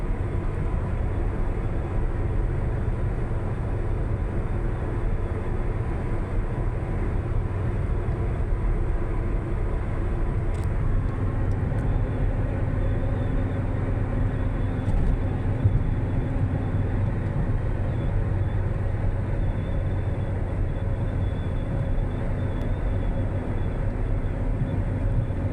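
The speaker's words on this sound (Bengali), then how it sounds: "সৌদি আরবের ট্রেন" A train runs past near a highway in Saudi Arabia, a continuous heavy low rumble holding steady and loud throughout, with no voices.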